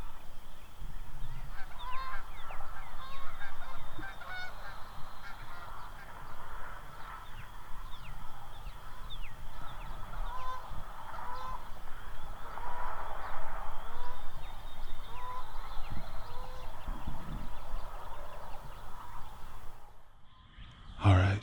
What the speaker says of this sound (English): I can hear them gobbling. They're in the next ravine over.